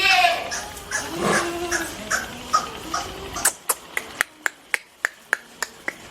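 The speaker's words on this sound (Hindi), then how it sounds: "ये बकरियों के बच्चे हैं छोटे छोटे" Young goats bleat in thin, wavering cries at a farmhouse at night, then a series of sharp, regular clicks like finger snaps takes over in a quieter space.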